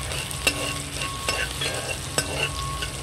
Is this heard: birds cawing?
no